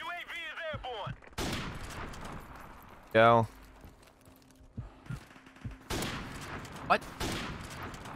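Gunfire in the video game Modern Warfare Remastered sounds as scattered shots and bursts, some loud and close, mixed with game sound effects and a brief electronic tone, while a person speaks briefly.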